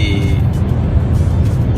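A Peugeot 508 cruising on a highway into Casablanca, with a steady low road and engine rumble filling the cabin throughout and no talk.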